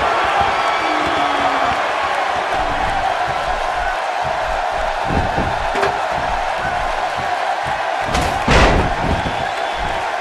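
A large arena crowd at a WWE Raw wrestling match roars and cheers in a continuous wash of noise, with a couple of sharp thuds and a brief surge near the end.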